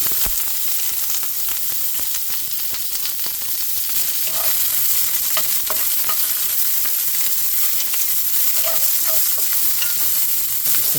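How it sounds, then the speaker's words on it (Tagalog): Onions frying in oil in a pan make a loud, continuous close sizzle, with stirring clicks and scrapes scattered through it and no voices. "Maglagay muna tayo ng mantika. At ilagay na natin ang ating sibuyas."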